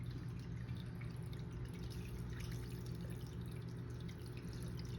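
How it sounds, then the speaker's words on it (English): Water is poured onto micro-green sprouts and drains steadily into a sink, a continuous close trickle and splash with faint drips throughout. "So I am going to water these."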